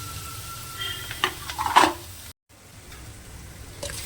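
Onion and capsicum stir-fry in oil with a soft, close sizzle, broken by a few brief louder scraping bursts of stirring before a sudden short gap and a return to quiet frying.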